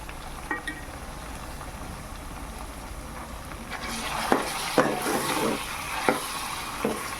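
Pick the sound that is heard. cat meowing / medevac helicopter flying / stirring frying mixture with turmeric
stirring frying mixture with turmeric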